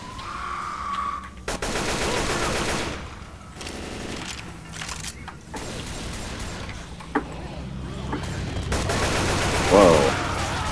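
AK rifle gunfire in the video game Deathcraft: long sustained bursts of rapid automatic fire, loud and close, broken by brief gaps, with faint voices underneath.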